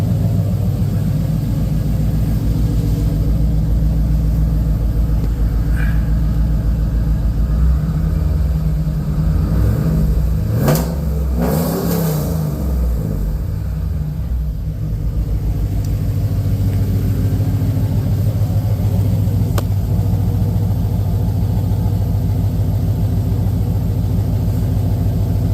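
Camaro SS V8 fitted with a Brian Tooley camshaft idles loudly and steadily in a close, continuous rumble, with one brief rev swelling up around the middle before settling back to idle.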